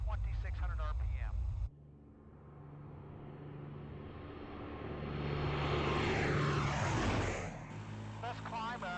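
A P-38 Lightning fighter's twin engines drone through the climb-out, a steady roar that swells louder and peaks before easing back, with brief speech at the start and end.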